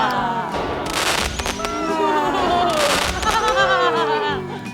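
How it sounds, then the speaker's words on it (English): Cartoon fireworks go off in a dense run of whistling, rising streaks and crackling bursts, loud and continuous throughout. "Spoiler alert, they're actually fireworks."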